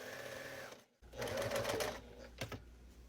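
A sewing machine stitching a pumpkin trick-or-treat bag, a close, steady mechanical whir of rapid needle strokes that stops briefly and then starts again, with a sharp click near the end.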